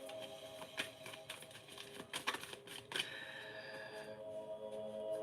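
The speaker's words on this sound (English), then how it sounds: "Give them a couple of shuffles." Tarot cards shuffled by hand, a series of faint crisp riffling bursts and soft taps, quiet and close, with no talking.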